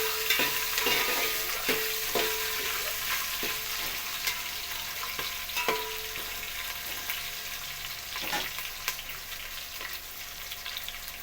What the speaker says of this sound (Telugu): కొంచెం ఫ్రై అయ్యాక అందులో మనం కట్ చేసి పెట్టుకున్న ఆలుగడ్డ ముక్కలు, క్యారెట్ ముక్కలు, పచ్చిమిర్చి వేసుకొని